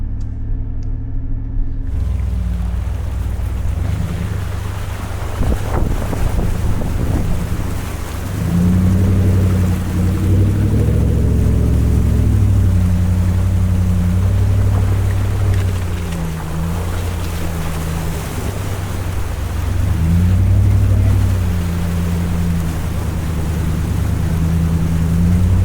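An overlanding off-road vehicle near Moab rumbles through a water crossing, its engine droning low and loud throughout, with splashing and sloshing water and rising and falling revs.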